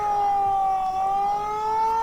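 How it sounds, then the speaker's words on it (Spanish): Football fans sound a steady, loud siren in a Bolivian stadium at the Tahuichi during a Blooming home match, holding a continuous tone with slight wavering pitch for the full two seconds. "Típica sirena de hincha académico."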